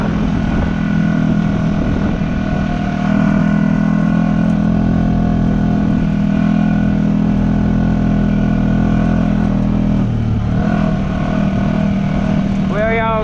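A Honda Rancher 420 ATV on 32-inch tires roars steadily in mud, a loud, sustained engine drone that dips in pitch near the end, with a voice speaking over it.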